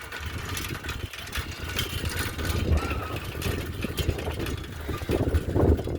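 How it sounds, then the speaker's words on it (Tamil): A motorbike engine rumbles steadily, fairly close, with a low droning hum that swells slightly toward the end, against dark outdoor background noise near a temple at midnight. "ஏதோ ஒரு பைக் ஒன்று வருதுன்னு நினைக்கிறேன் கைஸ்."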